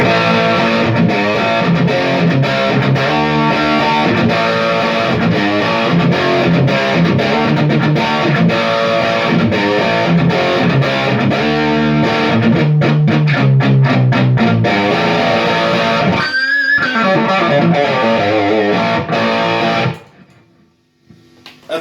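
Heavily driven electric guitar chords through a vintage 1964 VOX AC30 Top Boost tube amp with a boost engaged ring out loud and thick, strummed and sustained, then cut off abruptly near the end.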